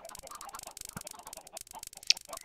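Nearly a thousand chickens crowded together in a video game, clucking continuously in a busy overlapping chatter, with a brief sharp click partway through and no talking.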